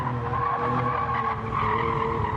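A race car brakes hard into a chicane in Gran Turismo 7, its tires squealing continuously under a steady engine drone that stays loud and close for the whole two seconds.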